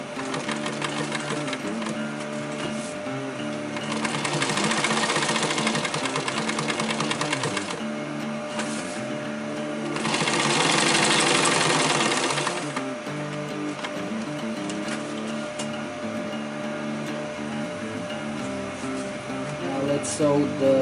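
Sewing machine stitching webbing onto an EDC organizer, running in steady bursts with two louder fast passes, close and continuous, with no talk.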